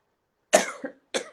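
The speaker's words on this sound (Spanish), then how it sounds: "ando todavía con un poco de tos" A single close, sharp cough, followed by a second short cough burst a moment later.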